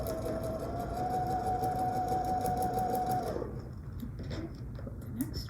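A sewing machine stitches a quarter-inch seam, running at a steady fast whir for about three seconds before stopping, leaving a quieter background hum.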